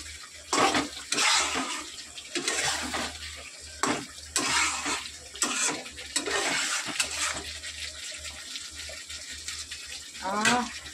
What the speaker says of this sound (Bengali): তো চলো এবার আমি একটু জল অ্যাড করি, পরিমাণ মতন জল অ্যাড করে দেবো। এটা কিন্তু গরম জল।